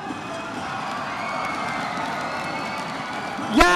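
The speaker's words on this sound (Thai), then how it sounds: "ขอเสียงดังๆให้บัวขาวเลยครับ" A large crowd cheers and roars for Thai kickboxer Buakaw after a fight, a steady sustained wash of noise from many voices with a sharper shout rising near the end.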